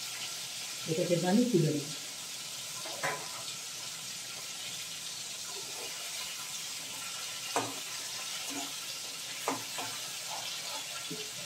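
A fish head fries in a pan with a low, steady sizzle, and a few sharp clinks and stirring knocks break through it. A voice speaks briefly near the start.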